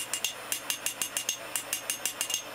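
A hammer strikes a metal rasp being shaped into a snake, about a dozen sharp, evenly spaced metallic blows in quick succession, close and alone.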